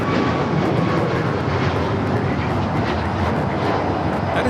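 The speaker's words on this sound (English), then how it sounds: "We do have a United 737 taking off 25 right." A United Airlines Boeing 737 MAX 9 taking off from runway 25 right at LAX, its jet engines a loud, sustained, close roar that stays strong and steady from start to finish, with no talking.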